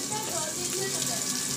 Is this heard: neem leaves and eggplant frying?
yes